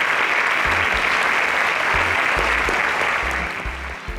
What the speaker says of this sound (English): Please a round of applause for Oduak.